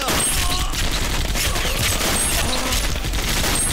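Sustained gunfire from a Bhojpuri war film scene, a dense continuous fusillade of rapid shots that fills the whole moment loudly and evenly, with no voices standing out.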